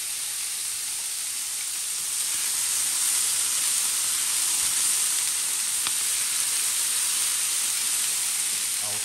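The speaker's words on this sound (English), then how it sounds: "I'll fry that with the meat as well." Meat fries in a hot pan with crushed juniper berries for a wild game stew, a loud, close, continuous sizzle and hiss that swells slightly partway through and holds steady to the end.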